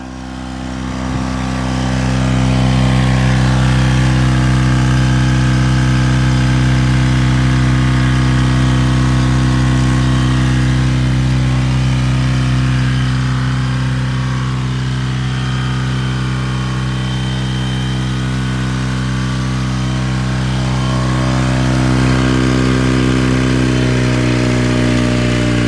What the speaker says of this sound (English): There she is idling.